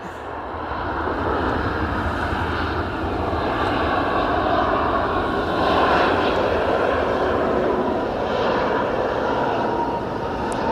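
A Jet2 airliner arriving at Edinburgh Airport, a steady loud jet engine roar that swells slightly as it passes and holds throughout at close range.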